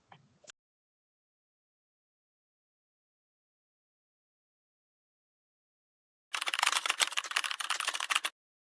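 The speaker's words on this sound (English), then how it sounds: "I hope my keyboard typing is not distracting" Rapid typing on a computer keyboard, close and fairly loud, comes as a dense two-second burst of clicks after a long silence and a tiny earlier tap.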